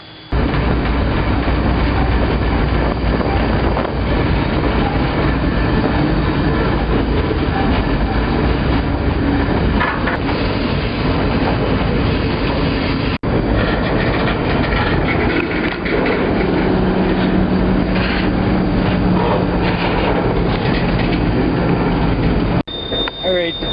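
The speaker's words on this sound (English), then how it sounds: "the train is coming to a stop in the Hauser Yard" A freight train rolls slowly into Hauser Yard, a continuous heavy rumble with rattling cars and squealing wheels, heard close and loud throughout while someone talks over it.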